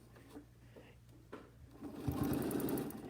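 A sewing machine stitching a Christmas poinsettia quilt pattern starts up after a few quiet handling sounds, then runs at a steady, fast whir.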